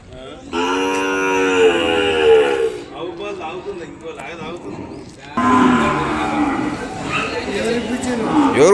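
Cows at a Sunday cattle market in Kodad give two long, loud, close moos separated by a pause filled with crowd chatter and market bustle.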